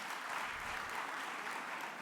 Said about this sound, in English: let's give him a round of applause once more.